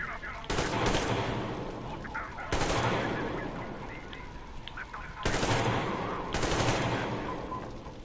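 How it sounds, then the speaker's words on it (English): AK rifle fire in the video game Metro Exodus: four loud automatic bursts of rapid gunshots, each lasting about a second, spaced across the stretch with quieter ambient game noise between them. "we're gonna want to switch to the AK for a second"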